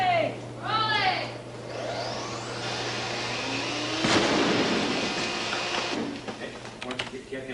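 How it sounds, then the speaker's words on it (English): A miniature model ship explodes in a sharp blast midway that rumbles into a long, roaring wash of debris before fading, with a voice heard briefly at the start. "The second explosion is better, but Rob feels he needs one more try."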